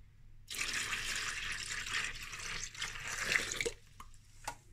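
Water emptied from a bottle full of sediment-laden water from a terrarium purge system, pouring in a steady splashing gush for a few seconds before it trickles off into scattered drips.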